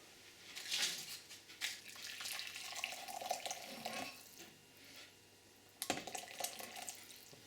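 Water poured from a kettle into a lasagne mixture gives a close, steady splashing trickle that starts, pauses, then resumes briefly, with no talk over it.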